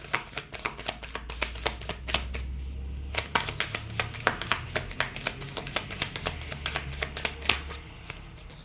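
Tarot cards shuffled by hand, a long run of quick, crisp riffling snaps and flicks close up, with a soft low rumble beneath and no speech.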